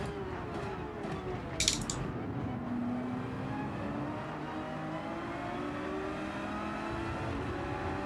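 Race car engines drone and whine through gear changes in the Gran Turismo 7 video game, a steady mechanical hum with pitch sweeps as cars run close together, and a brief clicking rattle near the start.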